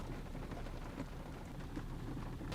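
Rain drums steadily on the roof of a camper van parked overnight, a constant dense patter heard from inside, soft and even with no voices.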